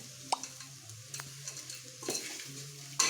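Carrots, onions and chapati noodles stirred in a hot pan, with a soft continuous sizzle and scattered scraping and tapping of the utensil against the metal, fairly quiet with no talk.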